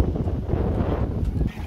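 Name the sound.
wind blowing on a cold day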